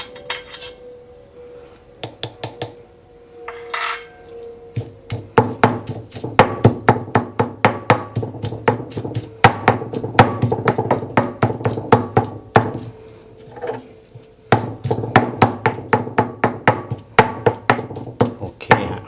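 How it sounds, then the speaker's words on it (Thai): Rapid, steady pounding of a pestle in a mortar, coarsely crushing Thai stir-fry paste ingredients with shrimp paste, sharp knocks repeating in quick bursts with brief pauses, close and fairly loud. "ก็ตำไม่ต้องละเอียดมากเหมือนที่แกนะครับ ให้แหลกๆก็พอ"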